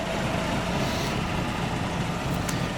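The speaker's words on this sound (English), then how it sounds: "Pretty robust little commercial engine." A 1948 Willys Jeep CJ-2A's small four-cylinder engine idles with a steady, unbroken low rumble that stays level throughout, with no voices over it.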